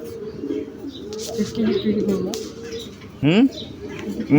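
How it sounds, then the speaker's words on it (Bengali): Pigeons of many breeds cooing on a farm in Nilphamari, Bangladesh: low, rounded coos roll on and off at close range, with a voice and a brief rising squeak near the end. "কবুতর, সুন্দর সুন্দর কবুতর আছে। এটা অনেক জাতের কবুতর।"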